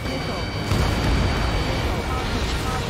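A missile launch and blast in the jet combat game Ace Combat 7: Skies Unknown: a dull boom rises at about 0.7 seconds into a sustained roaring rumble, with faint radio chatter beneath.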